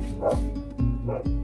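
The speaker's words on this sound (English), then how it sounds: "Make a sound of a boxer dog." Boxer dog barks played back from a Google Assistant smart speaker, three loud close woofs spaced across a short burst with slight whimpering tones.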